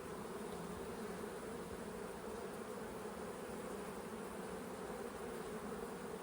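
Honey bees buzz around an open hive during a check on queen acceptance, a dense, steady drone of many wings filling the air without pause, close and constant, with no voices.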